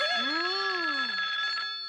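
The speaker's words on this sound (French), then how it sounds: "Le téléphone sonne encore." A cartoon telephone rings with a sustained, bright electronic trill over a swooping tone, loud and close, with no voices.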